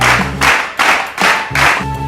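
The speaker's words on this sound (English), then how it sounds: "Before we turn the page, let's clap our hands." Hands clap four times in a slow, even rhythm, each clap crisp and close during a children's storytime, with no talk over it.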